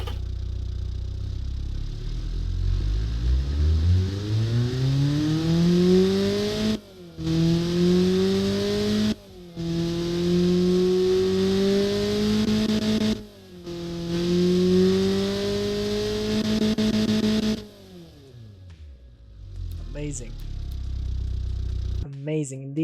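A Ford Transit engine fitted with performance intake and exhaust revs repeatedly, each pull rising in pitch with a throaty roar, broken by brief gear-shift drops, before settling to idle with a few clicks.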